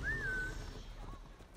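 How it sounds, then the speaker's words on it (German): A horse whinny rings out in Assassin's Creed Origins as the mount is called, a single rising-then-falling neigh lasting about half a second over steady game ambience, followed by faint hoof and background rustle. "jetzt rufen wir unser schönes Pferd"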